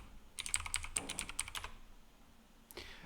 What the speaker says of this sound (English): I have to type it in again.